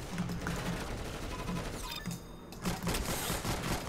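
Rapid gunshots in the Roblox game Arsenal, dense repeated shots throughout mixed with game effects, loud and continuous with a brief lull midway.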